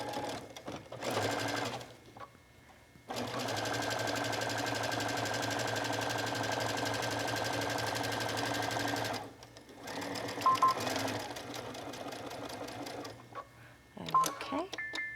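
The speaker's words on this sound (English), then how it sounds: "So I'm going to stitch that together with a 1/4 inch seam now at the machine." Sewing machine stitching a quarter-inch seam on a sturdy bag handle, a close, steady run of fast stitching lasting several seconds between short stops, with some speech and handling sounds afterward.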